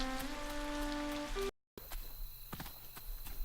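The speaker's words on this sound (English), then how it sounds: "So the rain stopped just perfectly, just in time." Rain falling in the video game Boundless, a soft steady patter under a held musical tone that cuts out briefly, followed by scattered drop-like taps and light steps.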